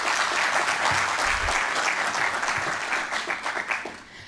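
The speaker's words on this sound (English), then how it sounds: "Please, once again, give them a round of applause." Sustained applause from an audience at a youth representative selection event, a dense field of clapping that stays full before thinning into scattered claps at the end.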